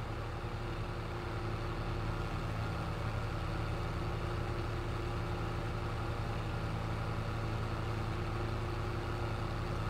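A small tractor engine in Farming Simulator 22 runs steadily at a low, even idle-like chug, close and constant throughout with no talk.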